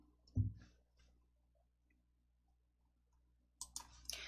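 Mouse clicks in a quiet room while using a coding program, one sharp click near the start and a cluster of quick clicks at the end, with faint small sounds in between.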